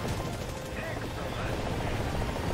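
Helicopter rotor and engine from a War Thunder tank battle, a continuous dense whirring roar mixed with distant gunfire and battle noise, steady and fairly loud throughout without talking.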